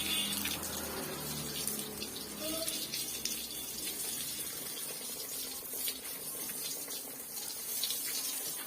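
Water splashes and runs continuously while an animal is being bathed, a close, steady gushing and pouring with shifting splashes throughout, and a voice talks faintly now and then beneath it.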